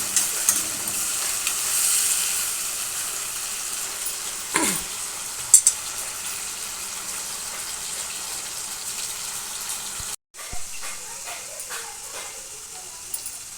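Mushrooms fry in a little oil, giving a steady broadband sizzle throughout with a couple of brief utensil knocks and stirring sounds, close and fairly loud, with no talking.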